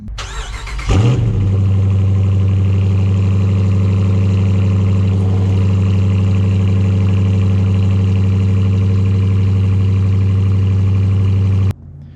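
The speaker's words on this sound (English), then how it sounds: "let's go ahead and fire it up, and you can listen to the cold start clip now" A 2021 Dodge Challenger R/T engine cranks and catches in a loud cold start, then settles into a steady, deep, rumbling idle that holds for about ten seconds before cutting off sharply.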